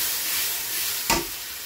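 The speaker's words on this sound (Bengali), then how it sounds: "আদা, রসুন, টমেটো, পেঁয়াজের এই পেস্টটা কষিয়ে নেবো" Ginger, garlic, tomato and onion paste fries in a pan with a steady, close hiss, broken by one brief scrape of stirring near the end.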